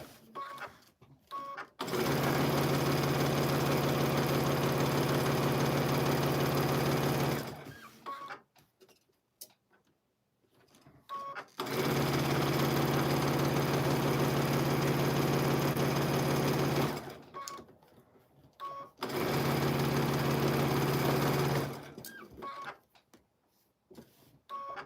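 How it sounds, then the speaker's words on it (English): A sewing machine sews the final seam of a quilt made from orphan blocks, running in three sustained loud bursts of motor whir with short silent gaps and faint clicks between them. "Our last seam is going in."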